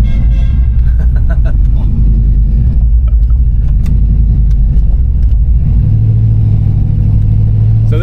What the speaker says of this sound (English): A lot of motorcycles running right now.